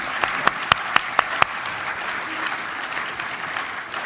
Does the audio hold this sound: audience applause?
yes